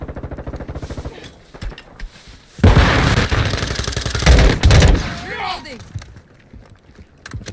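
Loud bursts of burst-fire weapon gunfire in the Call of Duty MWII beta, rattling through several seconds, with someone talking before and between the shots.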